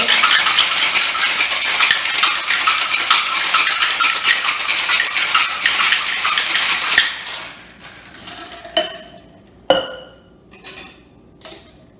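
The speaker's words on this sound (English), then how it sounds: "I'm filling my glass with some ice and water." Ice and water pour into a glass while a cocktail is being mixed. A steady rushing, rattling wash runs for about seven seconds, then a few separate bright clinks ring out close by.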